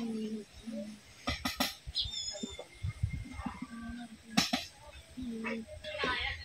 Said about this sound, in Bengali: এই দেখুন ছোট্ট চড়ুই পাখি